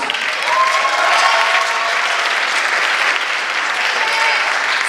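Sustained, even applause from an audience after a talent performance, a steady close wash of many hands clapping throughout, with faint voices underneath.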